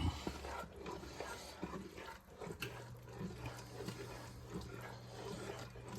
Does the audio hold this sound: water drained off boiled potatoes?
yes